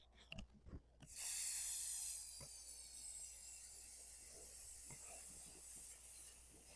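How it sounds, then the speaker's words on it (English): A steady hiss of mirror-effect spray paint bursts in after a few small clicks and handling noises, then continues as a softer, sustained spray close by. "And then we're just going to spray it."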